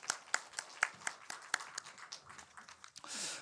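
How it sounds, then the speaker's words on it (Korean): Church congregation clapping during a Sunday worship service, a burst of sharp uneven claps that thins out, with a brief murmur of voices and a rising rush near the end. "우리 축복의 박수하십시다."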